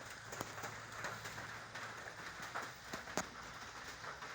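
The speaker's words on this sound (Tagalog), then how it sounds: "Grabe ka ulan ni sa among nga lugar oy." Heavy rain falling steadily as a dense, even hiss with occasional sharper drips and taps, moderately loud and continuous with no voices.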